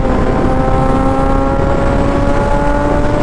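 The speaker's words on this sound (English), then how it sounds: "Is this a Mustang coming up on me?" A Mustang car closes in behind a stock motorcycle on the road, a loud engine tone with a rising whine blended with heavy wind roar, with no talking.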